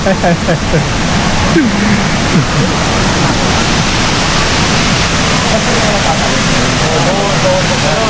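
Balagbag Falls gives off a loud, steady rush of falling water that fills the whole scene without a break, and a voice is briefly heard early on under the roar.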